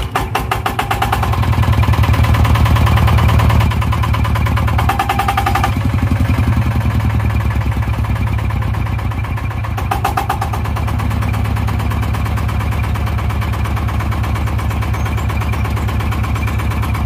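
A VST Shakti 165 DI power tiller's diesel engine catches and settles into a steady, loud, close idle with an even rhythmic chug that holds for the rest of the stretch.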